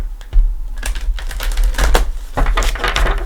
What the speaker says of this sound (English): I'm going to give her a couple shuffles